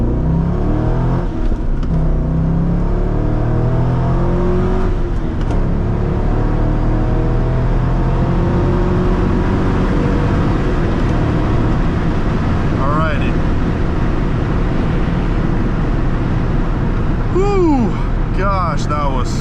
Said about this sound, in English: All right, let's do our 0 to 60. 3, 2, 1. Let's ease on the throttle.